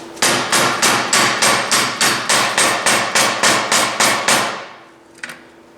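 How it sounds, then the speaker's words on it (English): Hammer blows on steel, struck through a steel plate to seat a wheel bearing race: about fourteen loud, evenly spaced metallic strikes, close and alone, then a ringing fade and one lighter tap. "I have a plate of steel, which should work fine. I just need a hammer."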